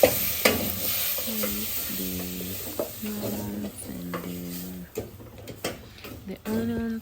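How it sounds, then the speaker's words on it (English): Onions and tomatoes frying for omena, tiny small fish, in a village kitchen, with steady sizzle under intermittent stirring and scraping, while a voice speaks briefly in between. "as I fry onions and tomatoes to add to our omena"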